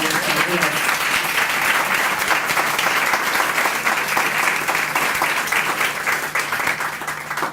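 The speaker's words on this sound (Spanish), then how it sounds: "un aplauso por favor" Audience applause at a talk fills the whole stretch, dense and steady at close range, with a faint voice briefly audible near the start.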